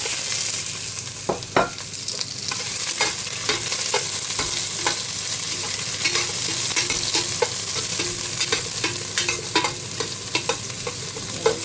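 Garlic, ginger and onion sauté in hot oil for chicken tinola, a steady close sizzle with repeated scraping clicks of a stirring utensil against the pan throughout.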